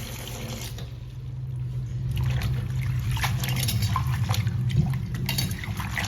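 Tap water runs steadily while spinach leaves are washed in a kitchen, a continuous splashing flow with small trickles and no voices.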